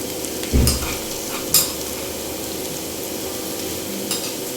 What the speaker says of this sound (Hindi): और इसको भी प्याजों के साथ अच्छे से फ्राई कर लेना है